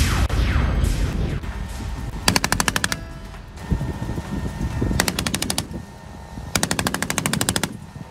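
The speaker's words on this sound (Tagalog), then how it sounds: "Sunod-sunod na putok ng missile ang pinakawala ng MADIS o Marine Air Defense Integrated System." Three loud bursts of rapid successive missile launches from the Marine Air Defense Integrated System (MADIS), each a fast string of sharp cracks, separated by rumbling pauses.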